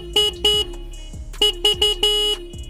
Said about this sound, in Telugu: హార్న్ యొక్క లౌడ్నెస్ ఎలా ఉందో ఒకసారి అయితే చెక్ చేద్దాం.